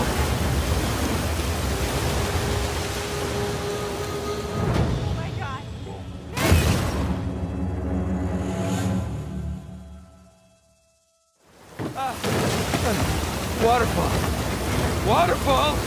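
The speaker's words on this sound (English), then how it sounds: "Waterfall!" Roaring waterfall in the Uncharted 4 video game, a dense steady rush of water at a chase, with shouting voices over it, a loud crash midway, and a brief near-silent break before the roar returns.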